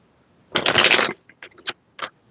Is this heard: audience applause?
no